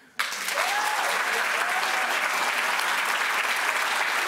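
A conference audience claps steadily and loudly after a sharp onset, the applause filling the room evenly throughout, with a faint whistle-like tone drifting underneath.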